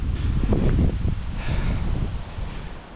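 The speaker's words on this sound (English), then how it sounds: "Hope you can hear this, it's getting a bit windy." Wind buffets the microphone outdoors at Melville Castle in low, rumbling gusts, loudest early on and easing slightly toward the end, with no voices.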